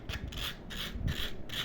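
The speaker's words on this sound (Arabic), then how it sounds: "صنفرة خفيفة كده" A hand blender part gets light sanding, a close, rhythmic rasping of short rubbing strokes repeated about four times in quick succession.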